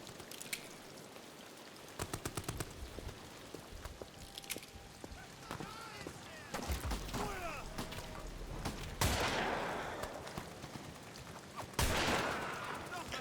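Gunshots in the Amnesia: The Bunker horror game ring out in loud, sharp bursts among softer rattling and spattering noises, with a few heavy blasts later on and quiet speech underneath.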